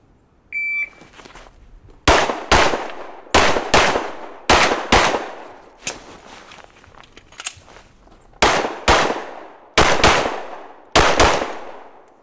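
A Smith & Wesson M&P 2.0 Carry Comp handgun fires during a pocket reload drill: a beep, two quick shots, a pause, then a string of sharp, loud, closely spaced pairs of shots with ringing decay.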